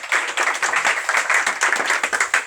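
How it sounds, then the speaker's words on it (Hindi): A small group claps together for friends, sharp, slightly uneven rhythmic hand claps close by, steady for a couple of seconds with no talking. "सारे दोस्तों के लिए इकट्ठी तालियां।"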